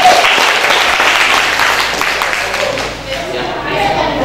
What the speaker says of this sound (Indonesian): Ya, berikan tepukan yang meriah.